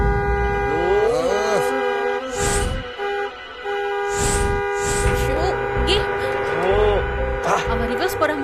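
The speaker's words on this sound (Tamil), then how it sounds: "ஆமா, பெரிய மகாராணி ஹார்ன் அடிக்கிறாங்க." A car horn honks in long sustained blasts among traffic noise, while people talk nearby.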